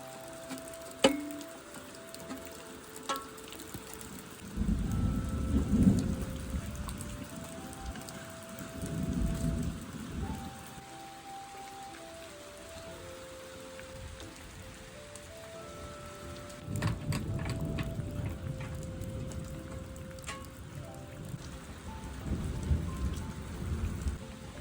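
A night thunderstorm brings heavy rain drumming on surfaces and several deep rolls of thunder that swell and fade in waves, with no one talking.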